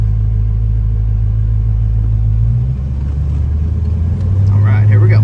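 A 1968 Pontiac GTO Ram Air V8 on a test drive gives a loud, close, deep rumble that shifts pitch midway as the car pulls away, with faint voices at the end.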